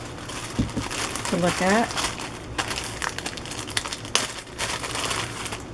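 Little plastic bags of craft trims crinkle and rustle as they are handled in short bursts, close by, with a voice speaking briefly over them.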